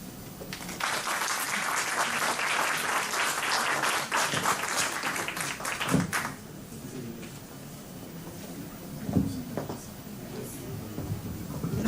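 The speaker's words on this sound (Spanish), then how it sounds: "Nuevamente les pido un aplauso para ambos doctores" Applause from the audience at a medical session fills the first six seconds with dense, steady clapping, then thins to scattered claps and quieter room murmur.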